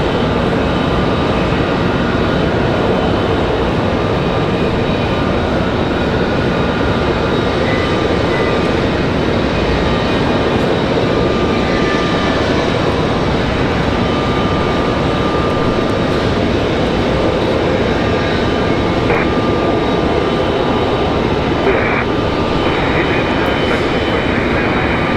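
A United Express Embraer E-175 jet rolls on the runway at Raleigh-Durham International Airport, a loud, constant engine roar close by that holds steady throughout.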